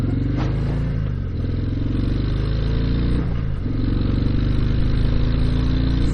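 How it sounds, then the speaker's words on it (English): A 2019 Harley-Davidson FXDR motorcycle rides along with a loud, steady engine drone and rumble, with brief dips as it shifts gears, heard continuously and close. "Flawless shifting, and you can really get up to 60 miles an hour pretty nice and quick on this bike"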